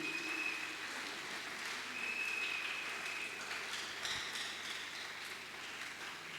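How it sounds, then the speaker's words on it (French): A church congregation at a Sunday service applauds steadily, a continuous wash of many hands clapping at moderate distance with no talking, lasting several seconds with slight swells. "on applaudit pour la parole du Seigneur"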